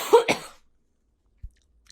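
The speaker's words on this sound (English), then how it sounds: "I'm definitely going to have her cut out my coughs" A man gives a short double cough, two quick close bursts, then a brief soft thump in near silence.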